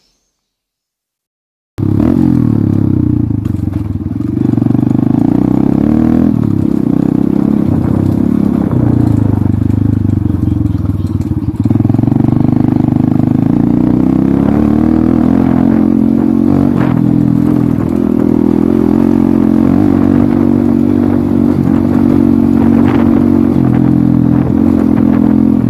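Trail motorcycle ride captured on a Samsung A52 phone mounted on the bike: a steady, loud engine drone that rises and falls with throttle changes, with wind rush and rattly clatter over rough ground, and no talking.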